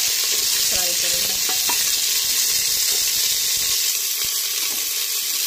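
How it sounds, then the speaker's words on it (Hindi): Carrots and potatoes frying in a cooker for masala khichdi, a steady loud sizzle with occasional scraping stirs of a spoon against the pot. "इसमें हम गाजर और आलू को भी हम डाल देंगे। सभी को हम 2 से 3 मिनट के लिए फ्राई करेंगे।"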